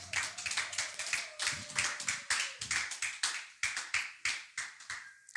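A church congregation claps together to acclaim the Lord, a steady run of sharp, rhythmic hand claps in unison with a faint sustained tone and scattered voices early on.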